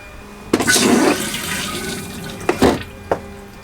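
A freshly reinstalled RV toilet flushes with a loud rushing swirl of water, followed by a refill trickle and a couple of sharp clunks.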